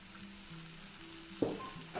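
Masala with mint and coriander leaves sautés in a pan for a biryani, a close steady sizzle with a couple of sharp stirring clanks near the end.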